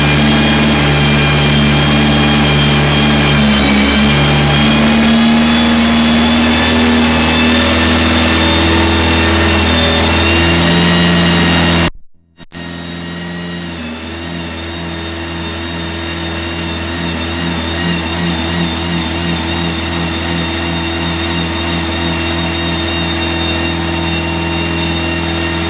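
A turbocharged rotary RX7 or K24 Lotus Elise engine revs hard on a dyno, loud and sustained, with a brief cut near the middle before climbing again under load.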